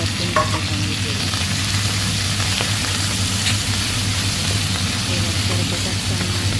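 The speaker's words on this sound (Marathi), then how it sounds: "त्याच्यात मेथीची भाजी टाकली. थोडं तडतडायला टाकली." Fenugreek leaves (methi) sizzle and crackle steadily in hot oil while being sautéed, a continuous close frying hiss with occasional stirring scrapes and no talk.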